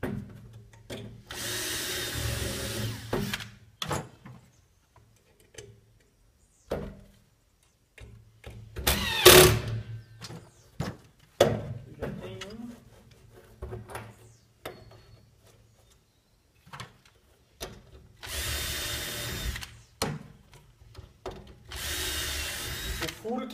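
A cordless drill driver whirs in several short bursts, spinning up and stopping as screws are driven into wood, with quiet gaps and handling noise in between.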